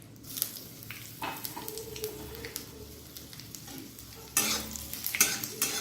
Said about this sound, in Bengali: আদাটা দিয়ে একটু নাড়বো।